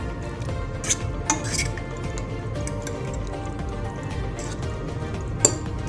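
Ingredients are stirred in a bowl while egg fried rice with mixed vegetables is being cooked, with scattered light clinks and scrapes of a utensil against the bowl and a few sharper taps, close by, with no talking.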